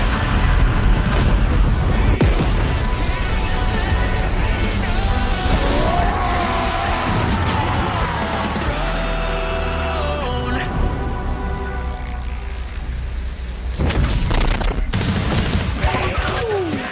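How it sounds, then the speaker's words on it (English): A huge video-game explosion as the Death Egg blows up: a continuous loud roar of rumbling booms and crashing blasts with a descending musical tone, then a brief drop before the blasting resumes. "I'll blow all this shit up."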